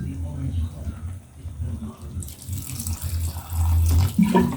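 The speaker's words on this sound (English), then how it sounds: "I'm going to add some little water. This is hot water, by the way, so that I can speed up the process." Hot water is poured into a cooking pot in a home kitchen, a continuous rushing and splashing flow that swells near the end, with low voices mixed in.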